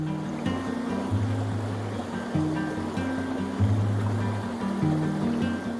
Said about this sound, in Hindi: जब पानी के बहने की आवाज़ होती है